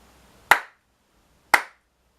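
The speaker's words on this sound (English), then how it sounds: "So if I ask you to clap a crotchet." Two sharp, close hand claps land exactly one beat apart, keeping a steady crotchet rhythm during a music lesson, with near silence between them.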